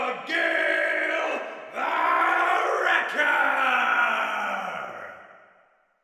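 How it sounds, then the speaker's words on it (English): A crowd at a tournament fight roars in long, swelling waves of yelling and cheering, two big surges before the noise fades out at the end. "Again, the crowd went wild"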